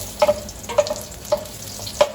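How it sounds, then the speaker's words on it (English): Garlic sautéing in a hot pan on a range for chilli, with a soft continuous sizzle and a few distinct stirring scrapes at regular intervals, close and moderately loud. "Saute that garlic."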